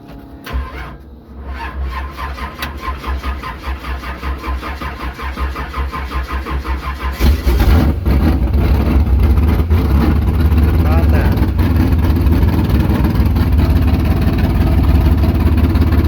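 A van unused for two months cranks with a whirring starter for several seconds, then catches and settles into a loud, steady rumbling idle, close by, with talking during the cranking.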